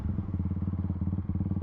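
Motorcycle engine during a burnout: a steady, pulsing low rumble held close and loud throughout, with no break.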